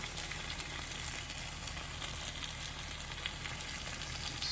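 Steady soft sizzle of mushroom risotto with parmesan being stirred in, cooked on a narrowboat, a continuous faint crackling hiss with no talk over it.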